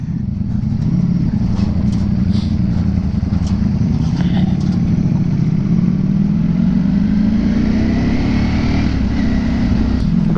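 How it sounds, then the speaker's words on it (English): Ducati Panigale sportbike ridden off-road, its engine droning loud and steady throughout with a gradual rise in pitch as it accelerates over rough ground. "Off-roading on the Panigale."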